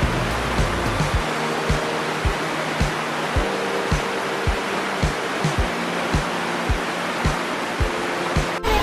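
Spring water flows steadily through a chain of cave swimming pools at Miabo Cave in Kidapawan, a constant broadband rush with regular soft low splashes recurring about every second.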